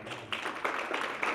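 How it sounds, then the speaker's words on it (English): Light, faint applause from a seminar audience, a brief patter of scattered clapping with no voices over it. "Let's give a round of applause."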